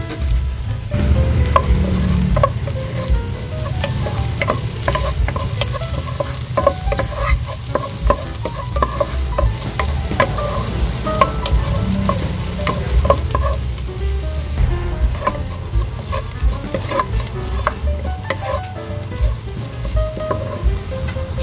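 Garlic frying in oil in a pan for pork adobo, a continuous close crackling sizzle with frequent stirring scrapes and clinks running for about twenty seconds, with no voices.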